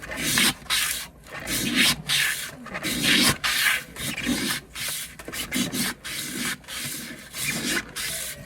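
A rusty kitchen knife is rubbed by hand to polish it, giving steady, close scraping strokes in a regular back-and-forth rhythm, each stroke a gritty rasp with short gaps between.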